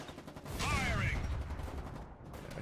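Gunfire in the wartime game Foxhole, a quick cluster of shots with a rising mechanical whine, moderately loud over a rough background, then fading.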